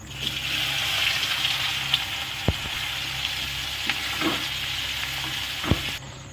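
Chopped onions sizzle steadily in hot oil for a Bombay duck curry, with a few sharp clinks and stirring knocks scattered through.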